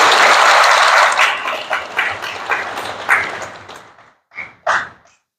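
Applause rises from the audience at a citizens' memorial ceremony and concert for the 37th anniversary of the June Democratic Struggle in Seoul's Anglican cathedral. Dense clapping at first thins into scattered bursts, then a few final isolated claps.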